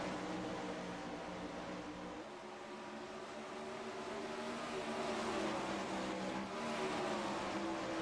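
Race cars lapping a short oval track, their engines droning steadily at a distance as they run close together and dive low through the corners, with a faint rise and fall in pitch as cars pass.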